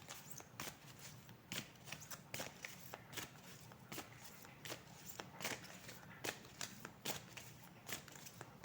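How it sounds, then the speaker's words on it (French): Oracle cards with animal messenger images being shuffled by hand, a steady run of soft papery riffles and flicks repeating for several seconds at close range, with no talking. "je vais tirer quelques cartes avec les animaux messagers."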